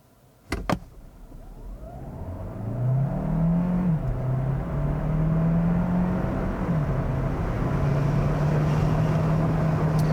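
A 2022 Hyundai Tucson Hybrid launches hard in an acceleration test, its engine swelling from a low whine into a steady, loud drone after a couple of sharp clicks, with no talking.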